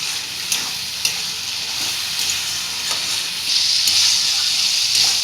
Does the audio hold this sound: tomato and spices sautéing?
yes